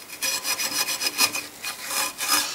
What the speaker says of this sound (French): mais de juste nettoyer le plan de joint